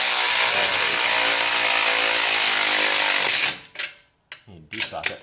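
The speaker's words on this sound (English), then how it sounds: "we could get out the impact wrench and put it on, you know, just lightly" Near the exhaust of a 2015 Jeep Wrangler, a loud power tool whirs steadily for several seconds, then stops, followed by a few short bursts and clicks.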